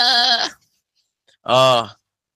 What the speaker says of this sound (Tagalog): Kambing lang ang hindi tao dito, ha?